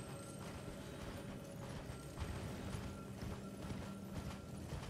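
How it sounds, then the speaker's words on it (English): The horse mount Torrent gallops in Elden Ring, a steady quiet rhythm of hoof clip-clops running without pause. "You can have a mount. You can have a horse."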